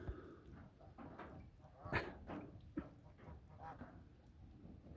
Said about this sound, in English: The geese are talking to me in the background.